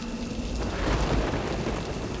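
Heavy rain pours down in Mumbai, a dense, steady roar of downpour with a deep rumbling low end, loud and continuous throughout with no voices.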